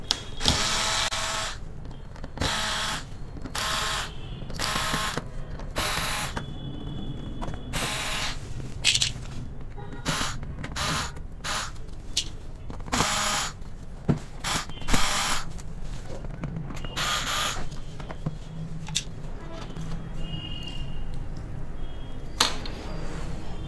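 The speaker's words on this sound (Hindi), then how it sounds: "ये सारे स्क्रू आपको ओपन करने होंगे" Screws being loosened from the back panel of an LED TV under repair, giving repeated ratcheting clicks and short mechanical bursts in irregular runs, close and moderately loud, with no talking.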